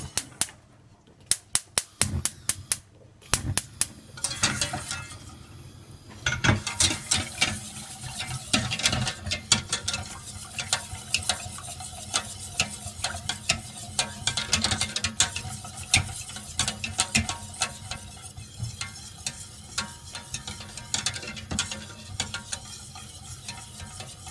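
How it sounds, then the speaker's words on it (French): A spoon scrapes and clacks around a pot as thick batter for el ghaïf pancakes is stirred continuously over heat, with sharp clicks early on and steady scraping throughout. "Là, je ne cesse pas de mélanger."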